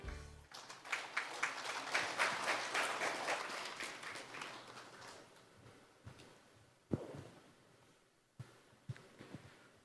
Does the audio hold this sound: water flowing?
no